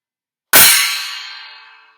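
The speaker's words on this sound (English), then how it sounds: "Let's have a look at the cymbal again." A cymbal is struck once after a short silence, with a bright, loud crash that rings on and slowly fades away over about a second and a half.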